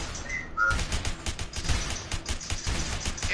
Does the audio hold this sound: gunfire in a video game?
yes